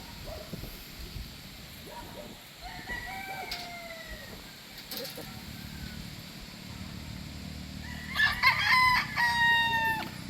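A Boston Abonayon breeder gamefowl rooster crows several times, first at moderate distance, then with a louder, nearer crow at the end, among scattered clucks and background farm noise.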